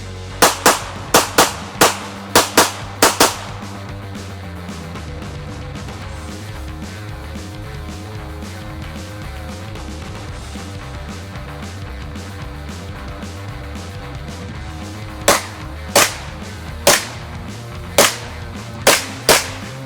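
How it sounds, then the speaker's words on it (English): Rapid gunshots ring off 10-inch and 6-inch steel gong targets, a quick burst of sharp cracks at the start and another evenly spaced series near the end, with a steady low hum in between. "we're gonna shoot each one a couple times, and then we're gonna reset them"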